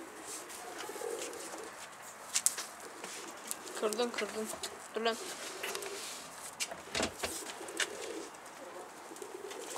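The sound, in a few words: pigeons cooing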